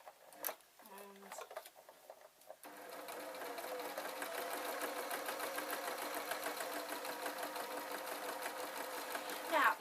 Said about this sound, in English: And sew all the way around.